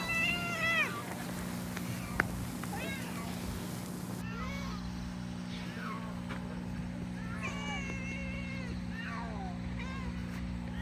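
A cat meows again and again inside a moving car, with short rising and falling cries spread across the stretch over a steady low engine hum.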